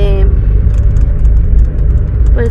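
Passing cars at a jaripeo, a low continuous engine rumble and road noise rolling steadily through the scene, with a crowd murmuring and voices faintly heard in the background.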